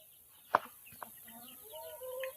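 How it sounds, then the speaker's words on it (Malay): Lomeng brown and Rhode Island Red roosters and hens being let out of their pen, with a few faint clucks and short calls at close range over quiet background noise. "mula-mula kita nak lepas dulu ayam yang ni. Lomeng brown dengan RIR jantan palung ni"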